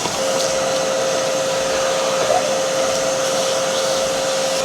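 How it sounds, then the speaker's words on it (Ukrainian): A Kärcher WD3 wet and dry vacuum cleaner runs steadily close by, a loud continuous whooshing motor roar with a constant whine and no voices, while it cleans dirt and leaves from hard-to-reach outdoor spots in autumn. "Одна з корисних функцій господарського пилососа це те, що ним можна легко прибирати бруд навіть от в таких важкодоступних місцях."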